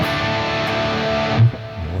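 An electric guitar with heavy distortion plays a blues walking rhythm, a thick, sustained chord that rings for about a second and a half before a short muted stroke cuts in, close and loud, with no talking.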